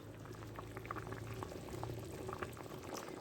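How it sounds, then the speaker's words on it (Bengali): A thin Bengali curry of raw plantain, taro and soybean chunks, with ground spices added, simmers in a pot at a soft, steady bubble, quiet and close with no talking. "মশলা দেওয়ার পর এভাবে আমি 3 মিনিট ফুটিয়ে নেব"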